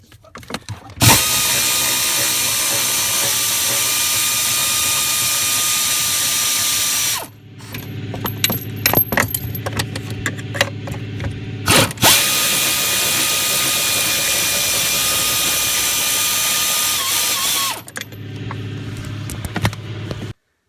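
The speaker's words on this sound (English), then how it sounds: "I'm going to use a 3/8 air ratchet with an extension and a 15mm wobbly socket." A 3/8 air ratchet with an extension and 15mm wobble socket whirs loudly in two long sustained runs on truck firewall bolts, separated by clicks and handling noises, with a shorter burst at the end.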